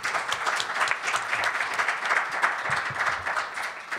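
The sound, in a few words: audience applause for the panelists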